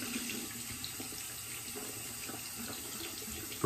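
Tap water runs steadily from a faucet to wet a Razor Rock Beehive shaving brush, a continuous close splashing hiss that holds level throughout with no talking.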